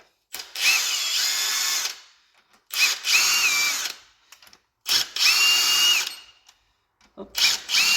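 A power tool whirs in three long bursts and a short fourth, close and loud with quiet gaps between, while undoing the cylinder head bolts on a Citroën C4 coupé 1.6 HDi engine.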